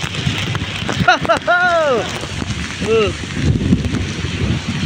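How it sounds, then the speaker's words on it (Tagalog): Strong typhoon rain and wind in the Philippines, a continuous rough roar battering the microphone, with a voice exclaiming loudly over it a few times. "Talagang sobrang lakas po na ulan"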